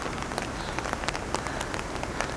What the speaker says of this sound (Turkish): Buraya da yağmur yağıyor.